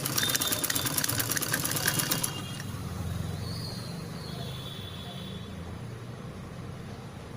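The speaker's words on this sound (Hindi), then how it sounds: "और अब हम नेट के कपड़े की इसकी दूसरी स्टिचिंग करेंगे।" Sewing machine stitching a second seam on net fabric for a kids' party dress, a dense rapid whirring run for about two seconds, then stopping into a low quiet room hum.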